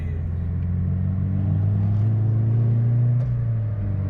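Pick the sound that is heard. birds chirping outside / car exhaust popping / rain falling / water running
car exhaust popping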